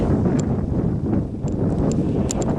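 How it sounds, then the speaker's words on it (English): Strong wind blows outdoors across an open field during metal detecting, a steady loud roar of buffeting against the microphone that persists throughout with only slight dips. "Bit windy."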